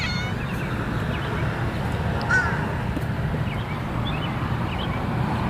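Birds chirp and call intermittently at a distance over a constant low background hum, with a few short, faint calls and no one speaking.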